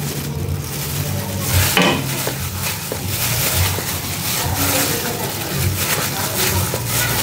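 Chicken teriyaki being stirred in a hot pan, continuous sizzling with the scrape and knock of a utensil against the pan, close and loud, with a voice talking over it at times.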